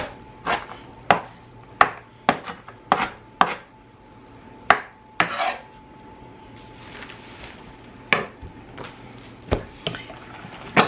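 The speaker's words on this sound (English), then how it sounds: "I like the cabbage to be cut smaller, so you can cut it though however you like." A knife chops cabbage on a board in irregular crisp strokes, some in quick pairs and others spaced out, close and clear against a quiet room.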